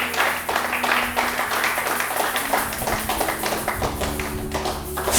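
A church congregation applauds in dense, continuous clapping, loud and close, with a few voices mixed faintly underneath.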